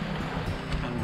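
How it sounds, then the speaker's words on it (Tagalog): Continuous wash of sea waves mixed with blowing wind, heard from inside a seaside cave in Bicol, a dense steady roar with no voices. "Wala kang ibang maririnig kundi yung tunog lang talaga ng dagat tsaka hangin"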